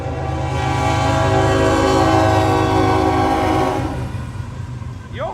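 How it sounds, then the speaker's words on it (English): A passing train sounds a loud, sustained horn blast for several seconds over rumbling wheels, then the horn cuts off and the rail noise fades away. "Here's the train."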